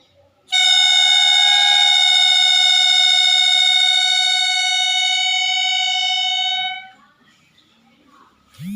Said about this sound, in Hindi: ये है हमारा ट्रेन हॉर्न टॉय।